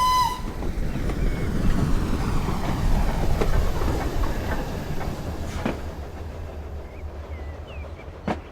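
An Adams Radial Tank steam locomotive on the Lyme Regis branch in Train Simulator: steady rolling rumble and rhythmic wheel clatter, with a brief whistle at the start and a few sharp squeaks and clanks later.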